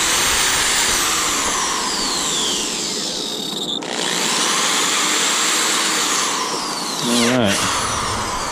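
A power drill fitted with a 5/8 bit and an extension whines loudly and steadily while making holes for a bank-fishing rod holder, its pitch dipping briefly under load near the end.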